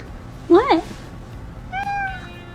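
A shelter-adopted cat gives two clear, close meows in quick succession, followed by a softer, drawn-out meow a second later, over a low background hum and light household noise.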